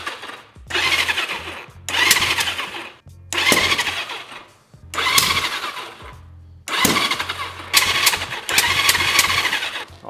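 A motorcycle that has sat unused for over five years cranks over repeatedly without firing, about six loud bursts of starter whir with short pauses between them, close by and with no voices.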